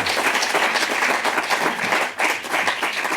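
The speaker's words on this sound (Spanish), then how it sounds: "Creo que también merece un fuerte aplauso al fiscal por tan brillante actuación" A strong round of audience applause for a prosecutor at a judges' ruling event, brisk close-packed clapping from a crowd that dips briefly midway and then picks up again.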